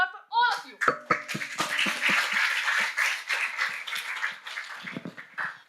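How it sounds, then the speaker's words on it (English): An audience at a young CEO program at a university breaks into applause, a dense wash of clapping that follows brief speech and fades near the end. "a round of applause for all of you"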